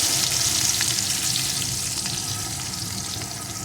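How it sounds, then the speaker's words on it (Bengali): Chopped garlic, added after black cumin, fries in hot oil with a loud, continuous hiss and crackle close up, no one speaking. "এখন রসুন কুচিটাকে একটু ভেজে নেব"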